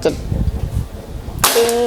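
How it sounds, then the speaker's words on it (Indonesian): A single sharp, hissing PCP air rifle shot cracks out after a moment of quiet background rustle, followed by a brief ringing tail. "Oke, kita coba tembakan pertama."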